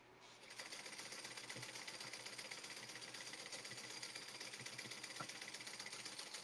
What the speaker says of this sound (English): we're just sewing down the straight edge of this part.